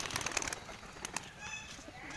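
Pigeons flutter and flap their wings in quick bursts nearby, with soft cooing and someone talking in Hindi over the birds.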